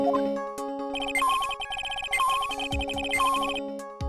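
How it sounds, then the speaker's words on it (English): Electronic metal detector beeping in a video game, with repeated tonal chirps and a rising ringing melody, close and steady, sounding in a few bursts over a background tone. "That's the sound of the metal detector."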